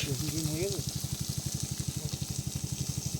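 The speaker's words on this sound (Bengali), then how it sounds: "মাছ ভাজা করছে" Fish frying in a pan at an outdoor picnic beside the Sundarbans forest, crackling and sizzling in a fast steady pulse while a voice speaks briefly at the start.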